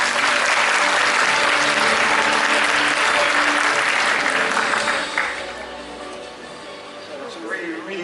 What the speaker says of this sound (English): Please give him a round of applause one more time.